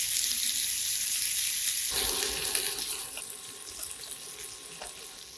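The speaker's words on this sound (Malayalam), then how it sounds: "ഗ്രില്ലിംഗ് പാനിലേക്ക് ഇങ്ങനെ ഇട്ട് കൊടുക്കുന്നു." Steak sizzling on a hot grilling pan, a steady loud frying hiss with crackling spatter that runs continuously and gets busier after the first two seconds, with no voices.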